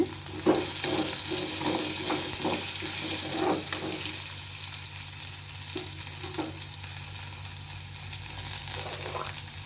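Onions sautéing in a pan for mutton curry, a steady close sizzle with a bright hiss throughout, broken by several scraping stirs early on.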